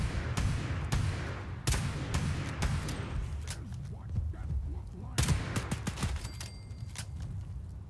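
Suppressed AK rifle fire in Fallout 76, heard as a string of sharp, clipped shots scattered through the clip, some in quick pairs, over a steady low game rumble.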